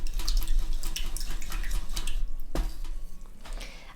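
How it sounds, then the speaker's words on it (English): Water sloshes and splashes steadily as a paintbrush is rinsed during acrylic sunset painting, a close continuous swishing with a sharper splash near the middle. "So then give your brush a wash out"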